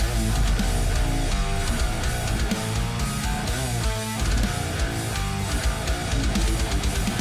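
Original heavy rock song demo with guitars recorded through the Fortin NTS Suite amp plugin, a full dense mix of distorted guitar, bass and drums playing loud and steady throughout, with no talking.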